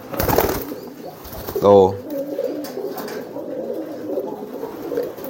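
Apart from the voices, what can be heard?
pigeons cooing during driving to nest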